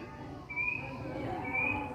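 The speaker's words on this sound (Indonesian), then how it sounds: "Kedengaran suara burung." Two short, faint bird calls ring out about a second apart over a low forest ambience near an old Dutch house in Pangalengan, with some distant rumble.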